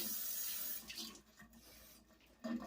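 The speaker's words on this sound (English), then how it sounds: "We're going to add the water there in the center." Warm water poured from a tap or jug into the center of a bowl of French bread dough ingredients, a steady close splashing rush that fades after a second, then quieter trickles and a brief splash near the end.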